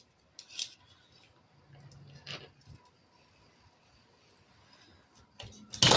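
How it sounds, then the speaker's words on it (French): A craft knife slices through a paper title piece for a Halloween card, giving a few short scraping cuts and taps close by, with a louder rustle at the end and no talking. "je vais le couper au cutter"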